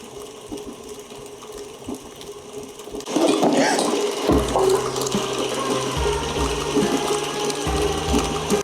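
An electric mixer beating butter mixture for oatmeal raisin cookies switches on partway through with a loud, close mechanical whir and rattling gear noise that runs steadily to the end after quieter kitchen sounds.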